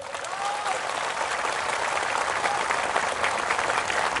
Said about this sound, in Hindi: थोड़ा जोर से ताली मारो तो तिपरासा लोग